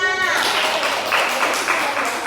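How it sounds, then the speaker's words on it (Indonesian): A classroom of students gives Nana a round of applause, a quick burst of many hands clapping close by with a light, tapping texture. "Beri tepuk tangannya Nana"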